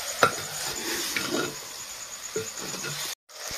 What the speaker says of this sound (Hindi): देखिए हम लोग का मीट कितना बढ़िया से भून रहा है